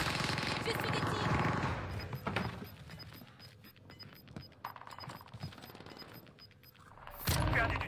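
Video game gunfire crackles in bursts of rapid shots, some loud and some distant, mixed with other battle noise while players talk over it.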